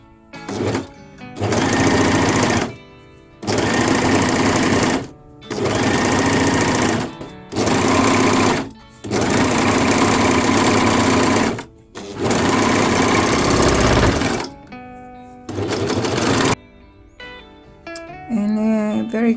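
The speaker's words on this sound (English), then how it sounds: "So let's do some sewing." An ELNA 654 overlock machine sews with the overcast 2 stitch in loud, steady bursts, seven runs of whirring stitching separated by brief pauses, then it stops and only faint rustling remains.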